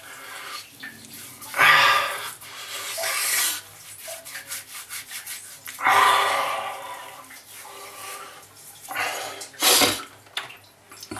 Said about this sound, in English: so that's the Arco cream rubbed in